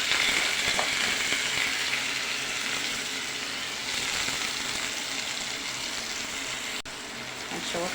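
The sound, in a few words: rice frying and being stirred in ghee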